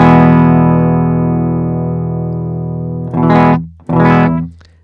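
Electric guitar played through a Nembrini Double Reverb amp plugin with master down and volume up for a solid front end: a long sustained distorted chord rings and decays, then two short loud strummed chords follow.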